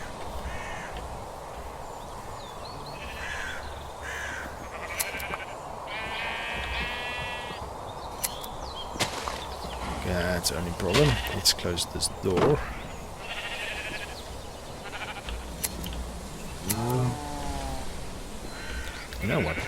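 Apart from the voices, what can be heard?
sheep bleating in Minecraft video game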